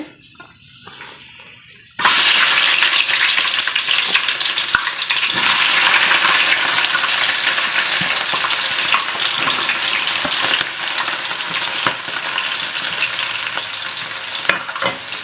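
Fenugreek, green chilli, ginger and garlic dropped into hot oil for a loobica pickle: a sudden loud sizzle bursting in after a quiet start, then a dense steady crackle with occasional stirring scrapes, close up and unbroken by voices.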